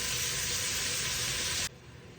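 Onions sauté in a hot pan for tomato rice, giving a dense, even sizzling hiss that cuts off sharply near the end, leaving a faint background.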